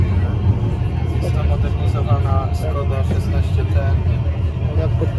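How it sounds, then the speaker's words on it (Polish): Steady low rumble of a Skoda 16T tram in motion in Wrocław, Poland, with faint voices murmuring over the vehicle noise throughout. "Ostatni przejazd tramwajem."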